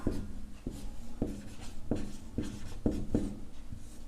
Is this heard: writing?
yes